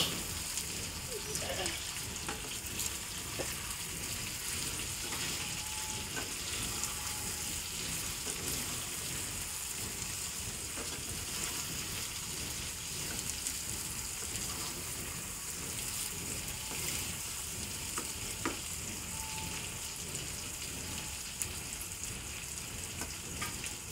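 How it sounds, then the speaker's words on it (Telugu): Tomato being stirred and mixed in a frying pan for a chicken fry, giving a steady sizzling hiss with faint scraping touches throughout, fairly quiet and without talk. "టొమాటో వేసుకొని బాగా అలా ఇలా మిక్స్ చేయాలి."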